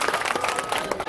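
A crowd applauds loudly and continuously at an evening devotional gathering and community event in Rajsamand, with dense overlapping claps.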